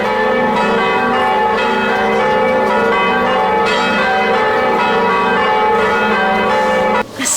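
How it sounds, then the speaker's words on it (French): Church bells ring continuously and loudly for several seconds, a dense wash of overlapping metallic tones with steady strikes, heard alone without talk. "C'est des cloches."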